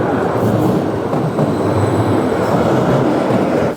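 A Swiss passenger train runs steadily and loudly close by, a continuous rumble of wheels on rails with no talk over it.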